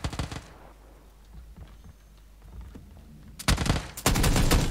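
Gunfire and grenade blasts in a PUBG esports tournament match: a burst at the start, quiet stretch with faint scattered shots, then loud dense bursts of firing in the last second and a half.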